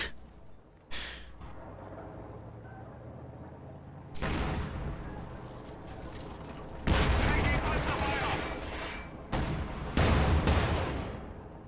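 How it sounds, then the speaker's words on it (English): Gunfire and heavy explosive bursts from a World War II strategy game match, with mortar shelling, coming in loud repeated blasts and sustained volleys that overlap a commentator's voice. "He just loves that late game mortar."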